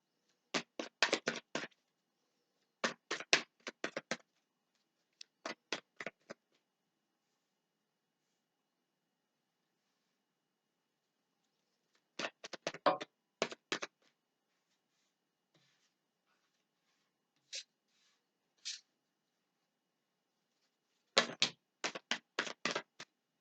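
Tarot cards are shuffled in quick riffling bursts, several rounds separated by silent pauses, close and soft, with a couple of single taps between.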